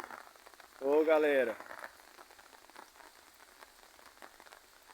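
Light afternoon rain patters softly and steadily throughout, with a man calling out a short greeting near the start.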